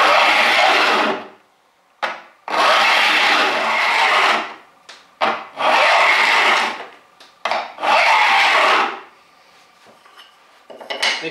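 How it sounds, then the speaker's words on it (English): A file held flat on a hardwood block rasps across saw teeth to top them, five loud close scraping strokes, each about a second long, separated by short pauses and light taps, with no voice over them. "You can hold the file flat on the piece of hardwood, just overlapping the saw plate a bit. Keep that all pressed up nice and tight and work like so."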